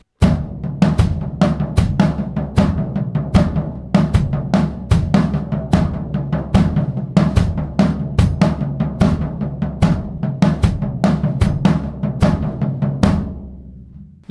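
Drum kit groove with accents alternating between right and left hands, a steady repeating pattern of sharp hits over a low thumping pulse, loud and close with no talking.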